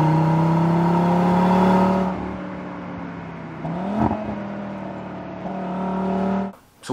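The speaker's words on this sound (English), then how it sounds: "the RS3 would come with a 5-cylinder engine and a unique sound that sounded just like this." An Audi RS3's five-cylinder engine drones loudly at steady revs, then drops off and climbs again in a short rev, ending with a brief surge.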